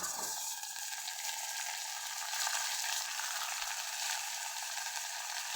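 Spring onion greens sizzle in a hot pan while being fried for a spicy gram-flour pithla; a steady, close frying hiss runs throughout with no talking.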